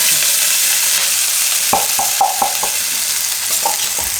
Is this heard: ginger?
yes